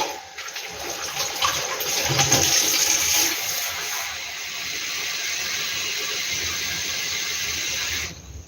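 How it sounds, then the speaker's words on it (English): Water pouring steadily into a pot of peeled ripe plantains, a continuous rushing splash that stays loud and even for about eight seconds, alone without talk. "So I'm just adding some water to the plantains"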